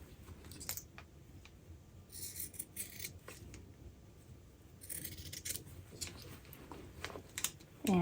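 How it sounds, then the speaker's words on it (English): Scissors cut away excess fabric on an upcycled garment, with a scattered series of crisp, close snips over a low background. "So now I'm just going to cut off this extra fabric here."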